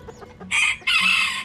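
A rooster of the Aztec breed crows twice in close succession, loud and near, the first call short and the second longer and drawn out, with faint farmyard background.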